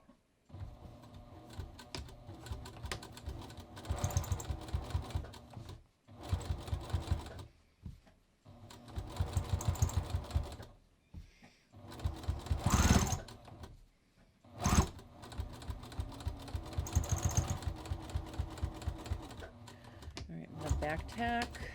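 A sewing machine stitches close to the seam of a front fly zipper. Its rapid, steady mechanical whirring runs close and continuous in several long stretches, broken by brief pauses.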